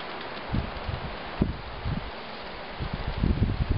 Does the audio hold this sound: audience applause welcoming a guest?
no